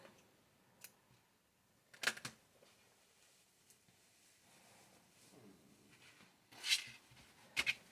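Scissors snipping crochet yarn, a few sharp isolated clicks and cuts spaced apart against a quiet background.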